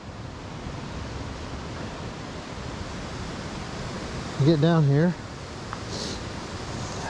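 Water pours out at Virgin Falls, a waterfall, as a steady rushing roar of broadband noise that fills the whole stretch, with a short burst of talk near the end.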